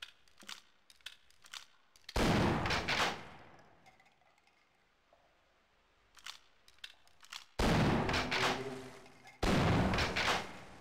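Shotgun double shots in the video game Half-Life, underwater in the Underground chapter: loud, close blasts in three bursts separated by quieter ambient stretches and small clicks.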